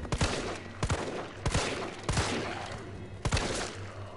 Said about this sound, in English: good shot, Brian. Good shot